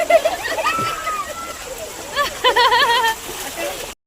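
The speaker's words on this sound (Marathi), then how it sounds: "वरती असं घ्यायचं पाणी वरती उडवायचं" Children splash water upward in a park fountain, the splashes and sloshing running beneath excited children's voices and shouts that come in bursts.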